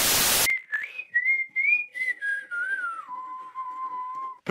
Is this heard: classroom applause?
no